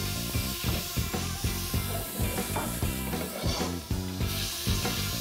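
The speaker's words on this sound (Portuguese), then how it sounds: "eu vou juntar aqui a cebola, que já tá picadinha" Chopped onion sizzles and fries with bacon in a pan, a loud, continuous crackling hiss with dense popping heard up close throughout.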